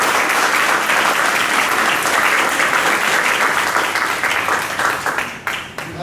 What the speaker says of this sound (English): So I want to give these two a round of applause